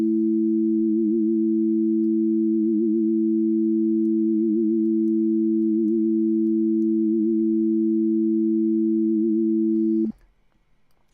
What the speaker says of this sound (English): So you can hear kind of what it's doing very clearly on the sine wave.